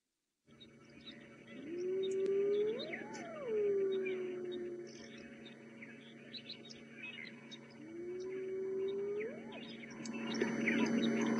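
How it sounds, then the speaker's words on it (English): Wild hyenas calling near an elephant carcass on a morning game drive, two long rising whooping calls that swoop up and fall away, carrying from a distance over a low vehicle hum and faint bird chatter. "So the hyenas are calling down near the elephant carcass"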